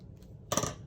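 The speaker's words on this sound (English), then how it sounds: "I'm gonna take my scissors and chop" Scissors snipping small paper leaves off a paper bag craft, one short crisp cut close up over quiet room tone.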